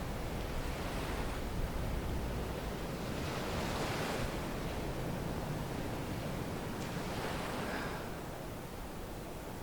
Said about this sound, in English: These waves really are amazing.